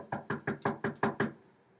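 Seven even, firm knocks on a door, close and distinct, rapping in a steady rhythm before falling quiet.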